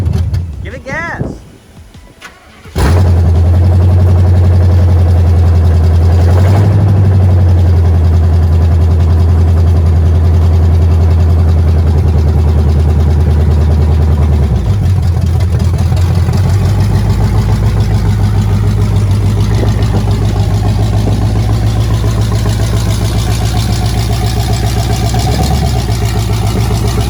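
A truck engine running on what is left of its old exhaust starts up and idles with a loud, deep drone, rising as it is given gas, while people talk nearby.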